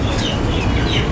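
Alexander breed chickens, two hens and a rooster, clucking in a continuous close, loud farmyard chorus.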